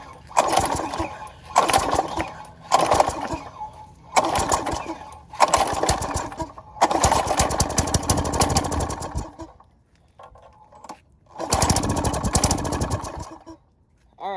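A small engine from free yard equipment sputters to life and runs in repeated loud bursts, revving and dropping off in uneven surges with short gaps between.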